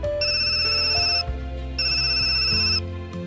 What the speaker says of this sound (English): The sound of a cell phone. It came from my, well, that is this woman's purse.